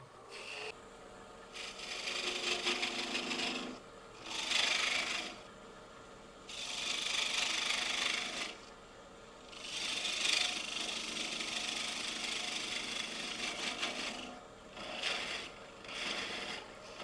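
A wood lathe turning koa wood while a tool cuts away wood from underneath, giving repeated rasping, scraping bursts of a few seconds each over a steady low motor hum.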